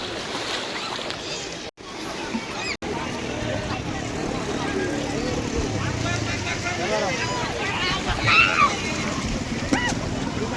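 Speedboat riding over the sea, with continuous engine and water rush, sloshing and splashing close by, and people talking over it throughout.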